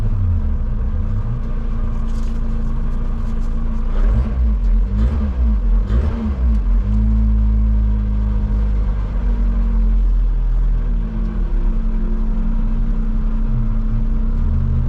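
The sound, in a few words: Lotus Exige 260 Cup car engine on track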